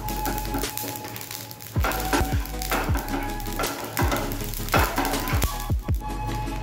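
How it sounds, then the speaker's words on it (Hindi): Whole spices for kadai masala dry-frying in a pan, with a soft steady sizzle broken by repeated scraping and stirring knocks as they are moved around, close and fairly quiet. "मतलब ये जो है हमारा सारा मसाला ये फ्राई हो रहा है"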